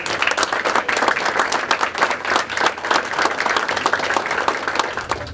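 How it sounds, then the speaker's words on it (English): Audience at a veterans' Post gathering in Pflugerville gives charter members a loud, sustained round of applause, many hands clapping in a busy rhythmic wash from start to finish. "Let's give them a round of applause."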